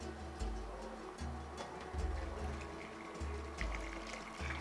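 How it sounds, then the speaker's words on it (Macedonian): Water being poured into a cooking pot of vegetables for a traditional bean soup, a steady splashing fill with soft rhythmic low knocks throughout, close and fairly quiet, with no speech. "И ќе додадам вода"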